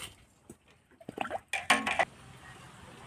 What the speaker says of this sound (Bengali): উনুন ধরিয়ে নিয়েছি, এবার আমি উনুনে কড়াইটা বসিয়ে দেবো।